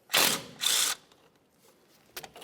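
Two quick bursts from a ratchet or power wrench loosen a 14mm bolt on a 2004-2006 Scion xB front strut, followed by faint clicks and small metal knocks.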